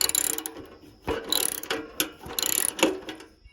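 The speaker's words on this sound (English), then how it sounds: "Take this ratchet. She's coming right off." A ratchet loosens a rusty bolt on an old Speedex tractor, giving close, rapid bursts of clicking pawl teeth in several runs with short pauses between them, and no talking.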